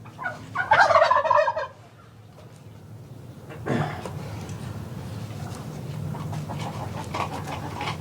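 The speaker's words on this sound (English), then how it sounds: "Okay, Turkey, I hear you." A turkey gobbles loudly with a rapid rattling burst near the start, followed by quieter rustling and faint background noise.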